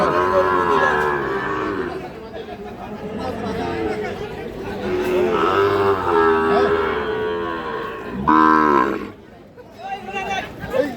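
Shahiwal cattle moo several times in long, drawn-out calls, close by, amid people chattering around them at a cattle market in Faridpur.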